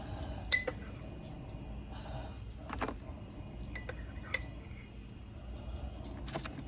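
Coffee grounds scooped into a Hamilton Beach 12-cup drip coffee maker, with a few sharp clinks of the scoop against the basket spaced across the clip over a quiet room background.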